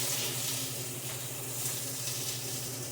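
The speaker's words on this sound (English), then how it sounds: "We're going to saute this up for about 2-3 minutes, and then we're going to add in our garlic" Red bell peppers sauté in a pan with a steady, even sizzling hiss that stays moderately quiet and continuous throughout, with no talking.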